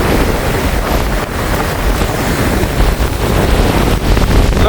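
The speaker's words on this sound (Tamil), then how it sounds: "பயங்கரமான காத்தடிக்குது" Strong stormy wind roars continuously along a sea coast during a cyclone, buffeting the microphone with heavy gusts over crashing waves and surf, loud and unbroken throughout.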